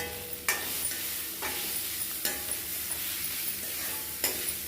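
A gooseberry rice mixture sautéing in a pan, a continuous bright sizzle broken by a few sharp scraping strokes of a spoon at irregular intervals.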